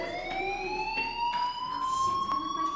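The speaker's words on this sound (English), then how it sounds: "Hey, do you hear that fire alarm?" A fire alarm sounding continuously in the Life is Strange video game, a steady rising electronic tone with faint rhythmic pulses, loud and unbroken throughout.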